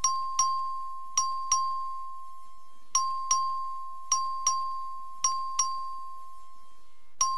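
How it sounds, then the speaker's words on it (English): A voting bell in a state House chamber rings in quick ding pairs, about ten clear strikes in an uneven rhythm, each ring decaying quickly against a quiet room. "Clerk, ring the bell."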